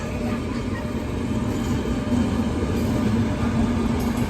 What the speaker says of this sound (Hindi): भाई एक ट्रेन और पास हो रही है ऐसे, तेजस एक्सप्रेस